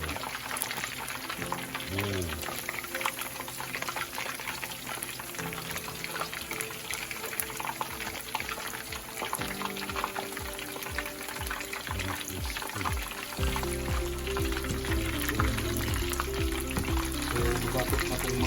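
Pieces of giant sea perch deep-fry in hot oil with a busy, crackling sizzle that bubbles continuously, while faint talk and low background hum sit underneath.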